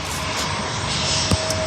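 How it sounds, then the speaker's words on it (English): A Bombardier business jet passes nearby at San Diego airport, its engine producing a loud, steady broadband roar with a faint whine, accompanied by a brief knock partway through. "That's a Bombardier or a Learjet. I think it's a Bombardier."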